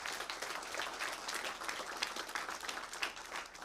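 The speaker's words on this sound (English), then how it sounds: "can we get a round of applause for our support systems and our great mentors?" A graduation audience gives a steady round of applause, a continuous wash of many hands clapping at fairly low level, sustained without a break for the whole stretch.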